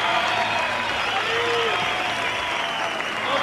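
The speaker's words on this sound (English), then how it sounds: "from silence to breakout applause here in Barcelona" Dense, sustained audience applause fills a diving arena at the Barcelona World Championships, a continuous roar of clapping from a large crowd.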